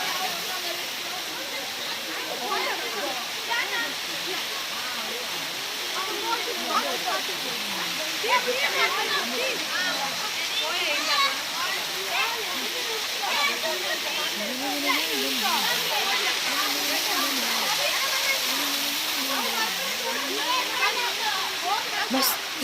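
A steady, full-band rush of falling water from a waterfall in a natural outdoor setting, continuous and fairly close, with no breaks across the whole stretch.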